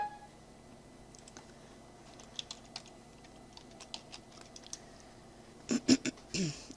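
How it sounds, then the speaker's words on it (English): A computer mouse clicks an uninstall button while removing Wizard101: faint, scattered ticks give way near the end to a few sharper, close clicks in a quiet room. "I'm going to click that."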